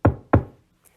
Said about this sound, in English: the wolf went straight to the grandmother's house and knocked on the door.